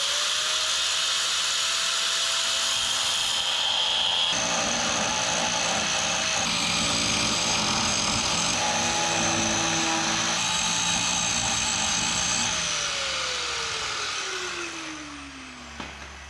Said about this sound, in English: Guess I'll start by cutting in a little groove right at the 1 inch mark between my marks